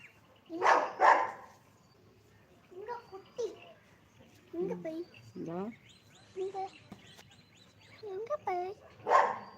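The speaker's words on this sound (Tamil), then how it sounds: "நாய் கொலைக்கும்" A dog barks in a few loud, close bursts at the start and again near the end, around a house where a wild buffalo stands out front, with bird chirps and people talking in between.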